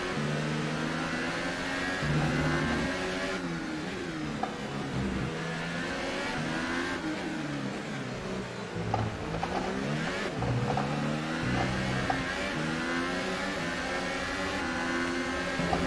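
A Ferrari power unit screams in an F1 2018 race car at the Spanish Grand Prix, a loud, continuous engine note rising and falling through gear changes for the whole stretch.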